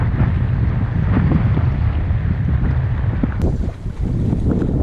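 Strong 25 mph wind buffets the microphone while trolling for crappie from a boat, a loud continuous low roar of gusts with water and hull noise beneath, steady throughout with a brief dip near the end.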